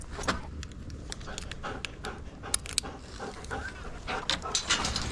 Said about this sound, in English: He's a crazy dog.